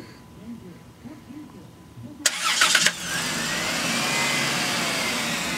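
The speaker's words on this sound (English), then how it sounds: "It's starting it up right now." A 1999 Dodge Intrepid engine cranks briefly, then catches and settles into a steady, fairly quiet idle nearby, with faint low murmuring beforehand.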